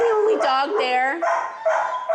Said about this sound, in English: She's a beagle mix, so know that she does have that beagle bay of a bark.